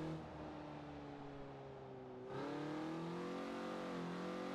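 A Mazda MX-5 engine in Forza Horizon revs steadily and loudly with a rumbling tone, then its pitch climbs sharply partway through as the throttle opens, heard alone and close.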